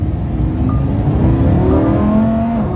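A Lamborghini Huracán engine hums and builds from inside the cabin, a steady loud drone with rising revs and a rushing road roar.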